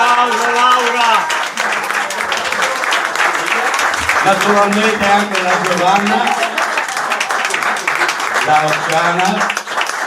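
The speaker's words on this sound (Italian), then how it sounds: "Un applauso Laura." Audience applause at an Italian cooking event in Rivignano, continuous clapping running under a loud voice on a microphone that talks over it the whole time.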